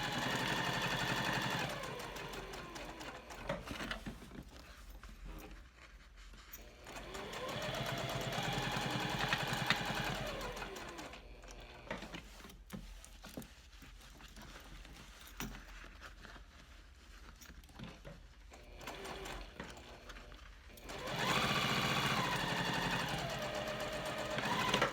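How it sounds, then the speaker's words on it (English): A sewing machine stitches a backpack pocket closed in a few separate runs of steady motor whir, close and moderately loud, with quieter handling pauses between stretches. "I'm going to backstitch well and just stitch all the way around the 3 sides"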